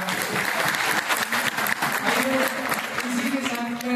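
Audience at a teacher training event breaks into loud, sustained applause, dense clapping throughout with a voice speaking over it.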